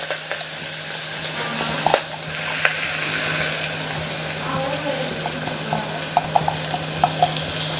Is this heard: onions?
yes